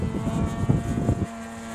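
A 3DHS Edge radio-controlled airplane flies on a calm, windless day, its propeller and motor giving a steady buzzing drone that holds level and then eases back near the end, with no talk.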